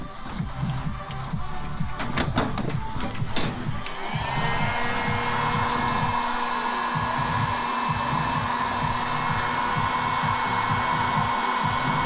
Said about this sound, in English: Don't want to overdo it with that heat gun.